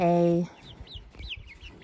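Laying hens being moved to a new coop give one loud, drawn-out call, then trail off into softer, scattered clucks and faint chirps close by.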